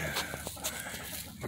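A young gamefowl rooster clucks in a farmyard among other birds, several short clucks and calls over a constant rough background, fairly faint.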